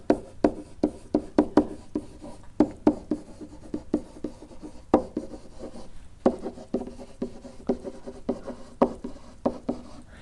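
Rhythmic tapping and scratching strokes of writing on a board, close and steady with brief pauses between bursts of marks.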